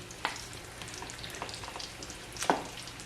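Potato bonda deep frying in hot oil, a steady soft sizzle with occasional pops and crackles, close up.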